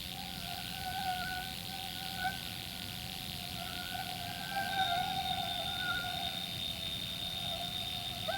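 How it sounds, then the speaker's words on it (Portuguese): A dense swarm of mosquitoes whines steadily over the Alaskan tundra, a continuous high buzzing drone with shifting tones, fairly distant and constant throughout with no voices. "À medida que os mosquitos levantam voo"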